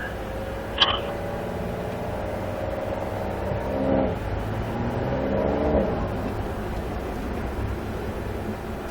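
A car at Barber Motorsports eases out of the pit lane, its engine humming and rising gently through a few gear changes, heard steadily from inside with a brief click near the start.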